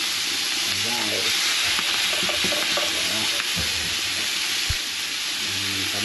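Beef grilling in a clay pot sizzles and crackles steadily and loudly, with stirring clatter and a few knocks, and a faint voice surfaces briefly beneath it.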